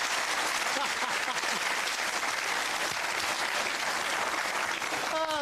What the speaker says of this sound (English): We're all clapping, but we don't know why.